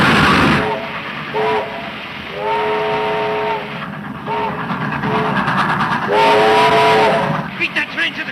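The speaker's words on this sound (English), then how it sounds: "Beat that train to the crossing." A steam-era train approaches a road crossing, its whistle blowing in several long, loud blasts over a steady rumble of wheels and engine, with a few voices shouting faintly in the mix.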